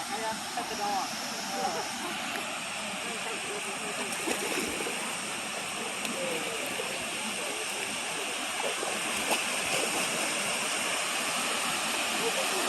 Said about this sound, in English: There's Stuyvesant Falls.